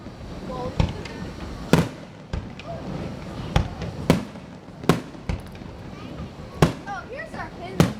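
Fireworks bursting outdoors in a series of sharp, loud booms and cracks at irregular intervals, with crackling between blasts and people talking faintly underneath.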